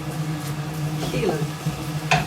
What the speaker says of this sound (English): frying pan and fry it up just to brown it a little